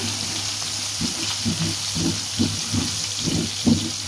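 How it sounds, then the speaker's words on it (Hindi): Chopped garlic frying in a pan, a steady sizzling hiss with soft, irregular bursts of spattering as it cooks, moderately loud and close. "सारी चीज़ों को कुछ ही सेकंड के लिए फ्राई करेंगे"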